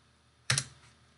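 A single short burst of computer keyboard keystrokes, a quick pair of clicks entering a value into an Excel spreadsheet, close and clear against a quiet background with no talking.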